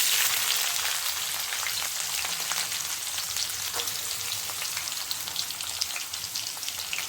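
Cumin, mustard seeds and finely chopped onion fry in hot oil with a dense, steady crackling sizzle like light rain, close up and continuous for several seconds with no voices.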